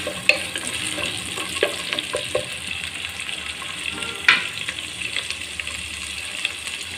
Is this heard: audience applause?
no